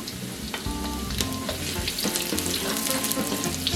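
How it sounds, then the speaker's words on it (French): Leek hitting hot oil in a wok, a steady close sizzle and crackle with spattering pops and occasional stirring clinks, continuous throughout. "Quand vous voyez que ça commence à bien chauffer, vous allez mettre la moitié du poireau comme je vous ai dit."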